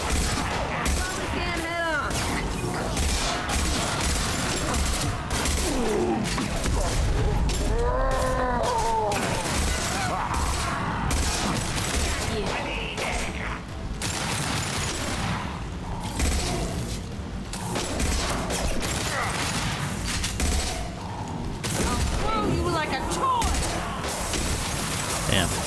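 Gunfire in Mass Effect Legendary Edition, repeated sci-fi weapon shots and mechanical clatter in a busy combat mix, with someone talking over it at times.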